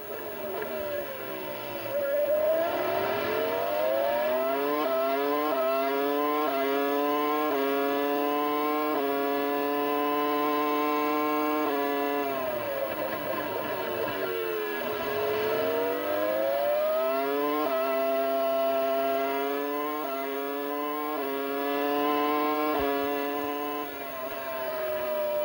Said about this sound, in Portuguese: Aí você vai de novo, on board com Ralf Schumacher, a saúde do motor BMW.